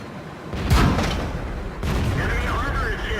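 A single heavy tank cannon shot booms out in World of Tanks. A deep rumbling roar and continuing game noise follow it.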